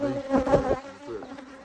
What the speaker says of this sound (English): We've got a few flying around here. I mean, that's just to be said, but they're good bees.